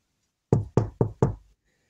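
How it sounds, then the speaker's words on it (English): Four sharp knocks on a door, evenly spaced and close, each striking loudly against silence before and after. "So Ivan knocked on the door."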